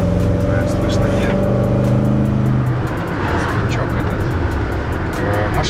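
Toyota 3UZ V8 engine swapped into a GAZelle Next van, heard from inside while driving as a loud continuous drone with road rumble and steady engine tones, someone talking over it.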